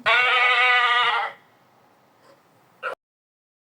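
A loud, close goat bleat lasting just over a second, followed by quiet and a couple of faint knocks.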